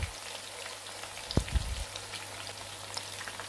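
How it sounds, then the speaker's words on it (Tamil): Pieces of chicken 65 deep fry in hot oil with a steady, close crackling sizzle, and a brief louder spatter of bubbling and clatter partway through. "அப்பதான் chicken வந்து நல்லா வந்து ஃப்ரை ஆகும்."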